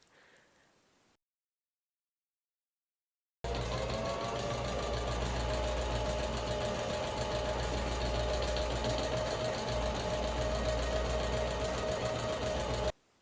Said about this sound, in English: And then we're going to sew these seams and then both of our armholes.